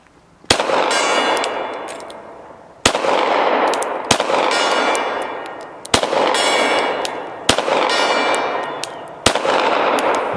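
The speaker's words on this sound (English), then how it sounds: "let's just go on across the hill and take a couple of gong shots" Six pistol shots strike a steel gong target across a hill, each a sharp crack followed by a bright, ringing metallic tone that decays before the next shot. The shots come at uneven intervals of one to two seconds, with no talking.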